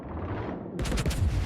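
Naval gunfire in a warship video game, a sudden heavy boom and roar that cuts in after a low rumble and sustains loudly.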